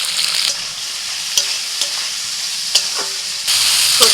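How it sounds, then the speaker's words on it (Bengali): Vegetables and peas stir-fried lightly in a pan give a steady sizzle, with spatula clinks and scrapes at intervals and the hiss swelling louder near the end. "সবজি একদম হালকা করে ভাজবো, সবজির কালারগুলো ঠিক থাকবে, অথচ হালকা করে ভাজা হয়ে যাবে"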